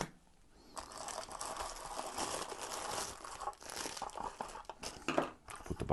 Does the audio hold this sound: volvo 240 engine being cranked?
no